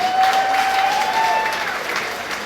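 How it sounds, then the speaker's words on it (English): Gala audience at the Royal Manor applauding the venue staff, a steady, full wash of many hands clapping that holds evenly through the moment, with a faint tone ringing briefly early on. "let's give the Royal Manor and the waitress and waiters a round of applause"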